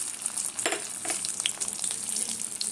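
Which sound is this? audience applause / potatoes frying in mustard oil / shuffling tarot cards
potatoes frying in mustard oil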